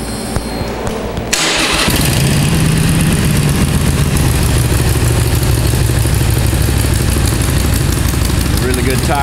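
A used Harley-Davidson Sportster 883 Iron XL883N motorcycle with about 3,500 miles cranks and fires up, then settles into a loud, steady, loping idle close by.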